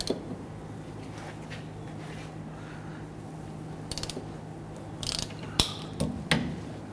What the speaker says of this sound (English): on the inboard side here, we have two more bolts we need to loosen and remove